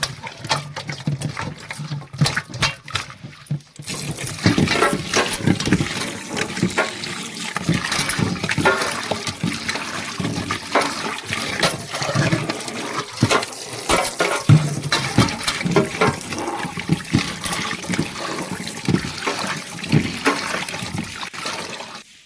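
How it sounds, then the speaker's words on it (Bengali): Koi fish rinsed under running water, with a loud, continuous rush and splash of water and occasional sloshing for over twenty seconds, no talking. "ওগুলোকে একটু জল দিয়ে দু তিনবার ধুয়ে নিলাম"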